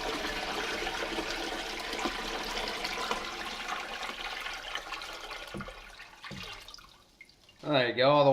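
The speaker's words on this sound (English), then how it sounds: "I'm just gonna put the water into the fish tank" Water pours into a fish tank in a steady, splashy gush that thins to a few drips and trickles, then a voice speaks at the end.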